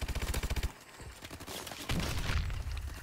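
Rapid automatic gunfire in a co-op video game, a quick burst of close, evenly spaced shots followed by rougher, noisier game action with no one talking.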